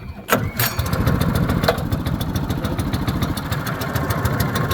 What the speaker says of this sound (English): And then we'll just pull start it, I guess.